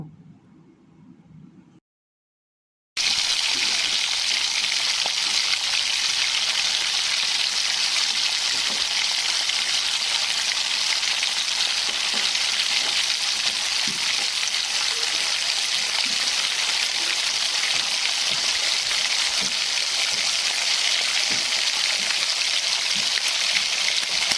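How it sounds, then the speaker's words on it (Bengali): Pabda fish, rubbed with salt and turmeric, frying in hot oil in a wok; after a brief quiet start, a loud, steady, close sizzle runs on, with scattered pops and no talk. "কড়াইয়ে তেল গরম করে নিয়েছি। এবার আমি মাছটাকে একটু ভেজে নেব।"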